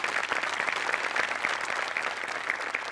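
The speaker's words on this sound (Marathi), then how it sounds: "गणेश सरांसाठी एकदा जोरदार टाळ्या होऊन जाऊ देत." A theatre audience gives a comedy show's creator a round of applause, with dense, continuous clapping from a large crowd heard at a moderate distance, steady and unbroken.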